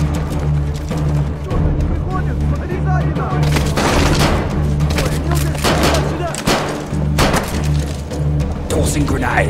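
Frag grenade blast and rapid gunfire in the Call of Duty Modern Warfare 3 shooter, loud repeated cracks and booms over a dense combat bed, with soldiers' voices calling out through the action.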